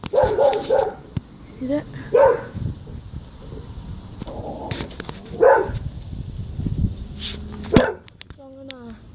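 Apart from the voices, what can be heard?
neighbour's dog barking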